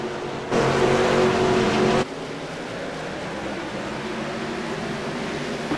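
V8 race trucks roar together at the green flag of an Australia/New Zealand series race, a loud dense engine wall that surges hard for a moment then settles into a steady drone.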